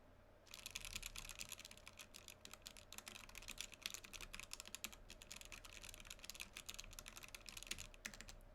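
Continuous fast typing on a mechanical keyboard fitted with H1 switches, a dense stream of muted, close clicks and clacks with no voices.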